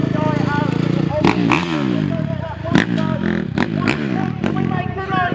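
A freestyle motocross bike at an outdoor display at the Henham Steam Rally roars to life, its engine revving up and down in rising and falling sweeps with some metallic clatter, close and loud, while voices carry in the background.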